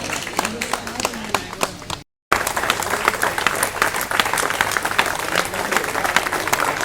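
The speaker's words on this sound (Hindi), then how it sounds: "ताली बजती रहने चाहिए" Audience applause at an award ceremony honouring social workers in Gwalior, a dense crowd clapping steadily and fairly close, broken by a brief cut of silence near the two-second mark before the clapping resumes.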